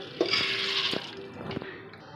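Water is poured into soaked green gram in a pressure cooker, a steady splashing hiss with a few soft knocks, fairly close and moderately quiet.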